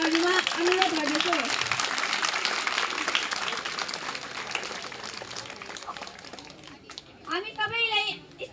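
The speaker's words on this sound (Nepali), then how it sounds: "अब चाहिँ हामीलाई आज यो कुराहरू सिकाउनु भएका आदरणीय प्रहरी कर्मचारीज्यूहरूलाई ताली बजाएर धन्यवाद गरिदिनका लागि सम्पूर्ण विद्यार्थी साथीहरूमा अनुरोध गर्दछु" Students clap to thank police trainers after a disaster-related training session at a police boarding school, applause filling the room under a speaking voice at first and then continuing on its own before fading.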